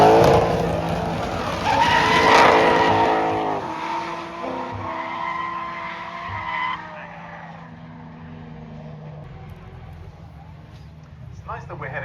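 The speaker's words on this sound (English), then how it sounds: "Second that gets warmed up and straight into the drift down the hill" A pair of drift cars slide downhill in tandem at a drift event, tires squealing loudly with engines revving and fading as they pass, while a commentator talks over the action.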